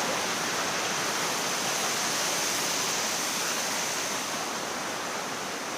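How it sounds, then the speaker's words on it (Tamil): At Aagaya Gangai waterfall, a loud unbroken roar of cascading water fills everything, dense and close from start to finish with no other sounds or voices. "ஆகாய கங்கை நீர்வீழ்ச்சி முக்கியமான ஸ்பாட்டுங்க"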